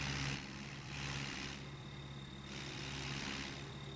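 Tractor engine in a Punjab map farming game hauling a sugarcane trolley, a low steady droning hum with slowly swelling and fading rumble, faint and continuous with no talking.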